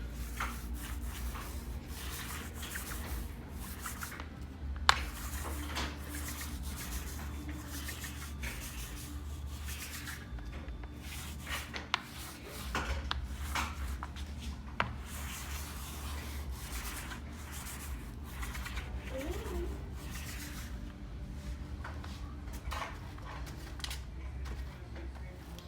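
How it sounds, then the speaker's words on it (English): A first layer of top coat is applied to a painted faux-granite countertop with a steady soft rubbing and brushing, continuous and close, with a few faint knocks and a low background hum and no talking. "So I'm going to put the first layer of top coat on"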